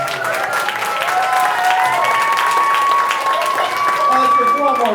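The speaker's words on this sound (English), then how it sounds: "Let's give one more round of applause to you, the parents, for all your hard work." Audience at a children's theatre performance claps and cheers in a sustained burst of applause, loud and dense throughout, with voices and whoops mixed in over the clapping.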